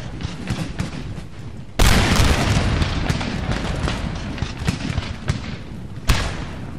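Musket volley fire in a Darth Mod battle of an Irish campaign against the British: a loud crackling volley erupts near two seconds, followed by dense rumbling battle din, then another sharp crack toward the end, with no speech.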